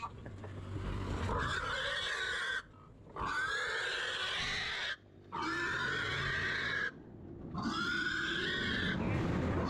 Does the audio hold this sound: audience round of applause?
no